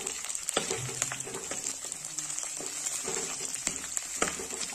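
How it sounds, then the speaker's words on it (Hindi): Chopped onions and green chillies frying in a pan, a steady close crackling sizzle with faint clinks of a spoon stirring now and then. "मेरे प्याज भुनने वाले हैं, प्याज मेरा भुन गया है, मैंने इसमें हरी मिर्ची डाली काट के"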